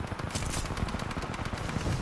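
Rapid automatic fire from the L-STAR gun in the video game Titanfall 2, a dense run of close, punchy shots that continues without a break.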